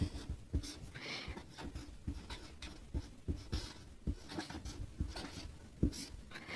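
Pen scratching on paper as a name is written by hand, a close, faint run of short rhythmic strokes and taps with no talking.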